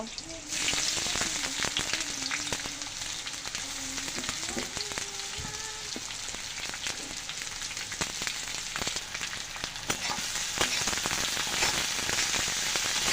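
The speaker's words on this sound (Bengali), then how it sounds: "এবার এর মধ্যে আমি চারটে পেঁয়াজ কুচি দিয়ে দেব" Chopped onions fry in hot oil in a pan with sea crab, producing a loud, continuous close sizzle dense with crackles and pops, plus a few occasional stirring knocks.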